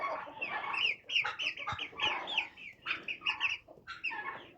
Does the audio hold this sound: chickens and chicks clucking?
yes